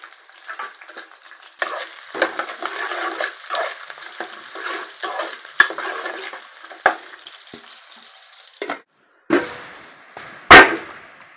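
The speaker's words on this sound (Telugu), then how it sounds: "మనకైతే ఉల్లిగడ్డలు అయితే ఫ్రై అయినాయండి." Onions and chillies with curry leaves fry in hot oil in a pan, a close crackling sizzle broken by bursts of stirring and scraping, with a few sharp spoon knocks and a short pause near the end.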